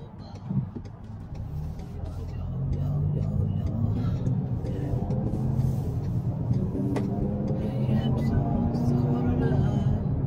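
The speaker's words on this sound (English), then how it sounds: "this traffic is always horrible" Road traffic heard from inside a moving car: a steady low rumble of engine and tyres with passing-vehicle swells, a person talking over the cabin noise.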